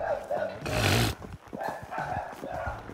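A pitbull barks in short bursts nearby, mixed with people talking over it.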